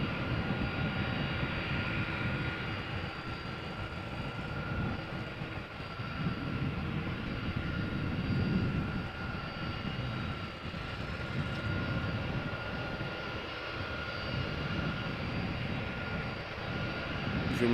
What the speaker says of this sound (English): You might hear the engine of the A330 already.